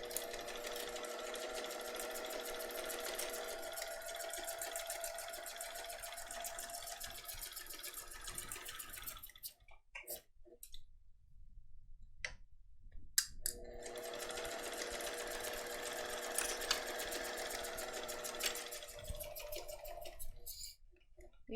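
Sewing machine running a basting stitch around the outer edges of a zippered case, whirring steadily for about nine seconds, pausing for a pivot with the needle down, then stitching on again.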